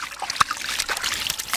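A hand dipping into river water at a sandy beach, making small trickles and light splashes, one sharper splash standing out among soft irregular drips and sloshes.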